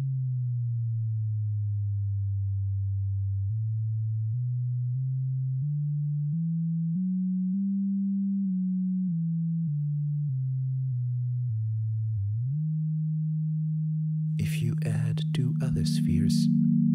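A pure synthesized sine tone moves slowly up and down in pitch as a sphere shifts its distance, dropping lower as the sphere moves away. Near the end it settles into a steady note, and a burst of other sound enters.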